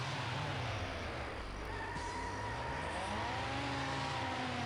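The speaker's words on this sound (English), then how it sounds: "The other cars are louder than my own car." Car engines drone and rev steadily in the racing video game Need for Speed: High Stakes, with layered engine tones rising and falling at moderate loudness and no talk.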